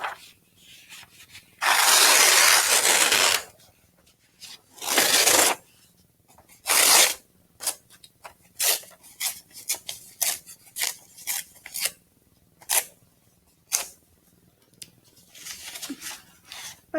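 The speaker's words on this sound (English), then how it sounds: "I'm going to tear a little bit of my brown paper." Brown paper torn by hand, first in a few long loud rips, then a run of short quick tears one after another, close up with no talking.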